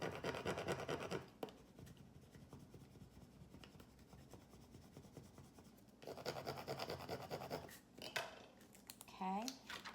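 Vinyl transfer tape is rubbed firmly onto a coffee mug, bursts of close scratchy scraping alternating with quieter pauses, ending with a short squeaky rub.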